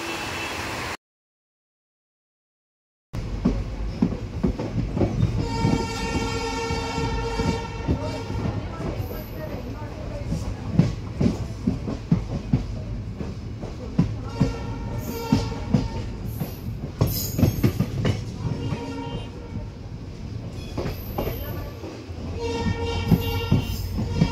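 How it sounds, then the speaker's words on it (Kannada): A train pulling out in Shivamogga rolls along steadily with rhythmic clickety-clack of wheels on rails and a low rumble, close by, after a brief silent gap at the start. "ಟ್ರೈನ್ ಮೂವ್ ಆಗ್ತಾ ಇದೆ"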